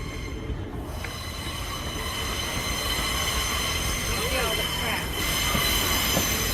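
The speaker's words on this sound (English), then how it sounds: "So you got the trains over there" A train rolls past nearby in Paris, with steady rumbling and wheels squealing against the rails, a continuous mechanical roar with faint clatter.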